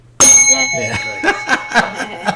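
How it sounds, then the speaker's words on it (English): A bell is rung at an online club meeting, a single bright ding with a long ringing decay, followed by light laughter and chuckling from participants. "And do I ring the bell?"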